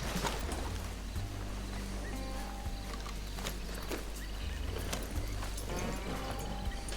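Horses' hooves in the video game Red Dead Redemption 2 beat in a steady, fairly close rhythm over a constant low rumble of game ambience, with occasional sharper knocks.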